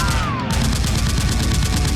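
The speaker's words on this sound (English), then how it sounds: "The two SWAT members return fire, instantly killing one of the henchmen." Nerf guns fire in a mock gunfight in an abandoned neighborhood, a rapid stream of sharp pops and clicks in quick succession, close and loud, over a dense noisy background.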